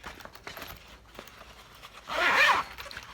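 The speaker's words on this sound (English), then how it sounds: "So I'm going to open the zipper" A zipper on a fabric pouch is pulled open in one quick, close rasping zip lasting about half a second, set against faint handling noises.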